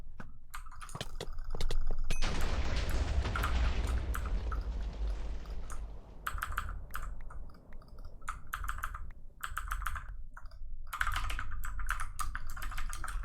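Rapid clicky keystrokes from a keyboard with Cherry MX Blue switches during a Blitz SG game. The typing comes in close, dense bursts, with a few short pauses between the runs of clicks.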